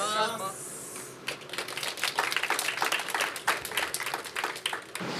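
Group of people clapping together in applause during a Japanese audition session, a dense crackle of many hands filling most of the clip after a brief lull, with some voices mixed in.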